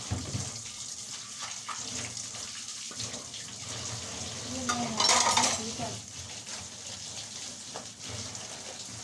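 A basket is rinsed under a running kitchen tap, with water splashing and utensils clinking, swelling into a louder gush midway while someone speaks briefly.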